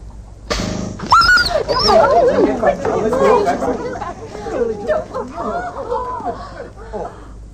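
A small dog whimpers and yelps in wavering, rising and falling cries during a staged demonstration of alternating current from a generator. The cries are loud and close, continuing for several seconds.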